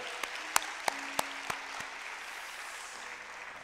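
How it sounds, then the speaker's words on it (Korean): A church congregation applauds at the opening of a mission revival service, a broad wash of clapping with a few sharper claps standing out, steady and moderately loud, then slowly thinning toward the end. "하나님께 큰 영광의 박수 올려드리겠습니다."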